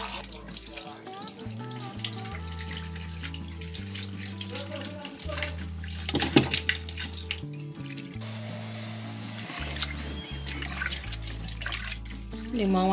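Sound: washing food under running tap water

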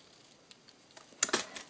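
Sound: trimming paper punch ends with scissors

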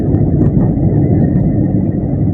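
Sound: car driving slowly on a road at night

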